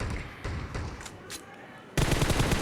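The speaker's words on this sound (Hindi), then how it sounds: "यहाँ पे गोलियाँ चल रही होती है भर के" PUBG gunfire: several rapid bursts of shots early on, then a louder, denser automatic volley that starts abruptly and runs to the end.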